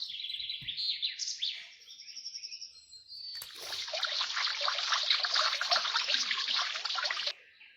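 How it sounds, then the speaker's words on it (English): Water trickles and splashes steadily over garden flowers in an animated story, following a stretch of high chirping bird calls and sounding fairly close and continuous. "Let's water them so the flowers grow faster."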